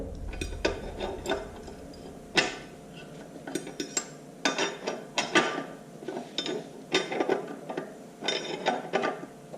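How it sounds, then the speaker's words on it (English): A large wrench working a fitting on a 1946 International Harvester LB engine, with a series of metallic clicks, clanks and ratcheting taps in irregular bursts, close and clear with no talk. "I'm just going to tighten it snug very lightly with this large wrench until it feels snug"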